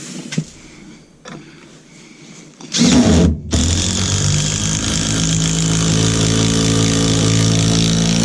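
A screw gun driving 3-inch SDS bolts into framing for water heater earthquake straps, a few handling clicks, then a loud motor whine that surges and holds steady close up.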